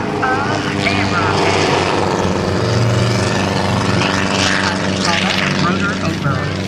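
A helicopter performing at a Blue Angels homecoming airshow in 2010 roars steadily overhead with a loud, continuous rotor and engine drone, while a commentator talks over it throughout.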